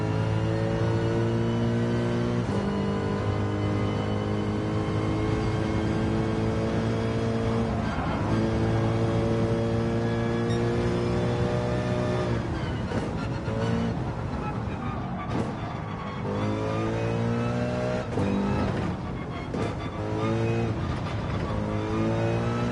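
A Mercedes-AMG race car in the Gran Turismo 7 video game, its engine droning loud and steady throughout with shifting revs and gear changes, the pitch climbing and dropping as it accelerates and backs off.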